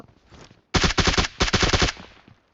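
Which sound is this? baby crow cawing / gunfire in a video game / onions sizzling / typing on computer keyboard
gunfire in a video game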